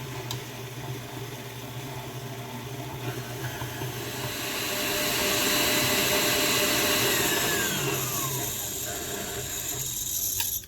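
An electric mixer creams sugar and unsalted butter for a buttermilk cake, with a steady mechanical whir and rattle running throughout that swells slightly louder midway.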